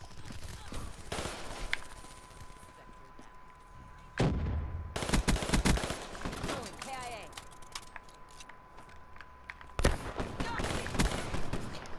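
Bursts of rapid gunfire in a shooter video game come in separate volleys over a steady background hum, with faint talk in between.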